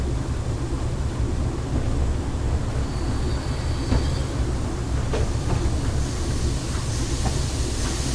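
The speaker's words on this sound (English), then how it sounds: "it is just a nice little jaunt along the narrow gauge railway, and then up to the main terminus" Steam locomotive rolling along a narrow gauge railway in Train Simulator 2017, a steady loud rumble of rail and wheel noise with faint intermittent clicks, continuous throughout with no talking.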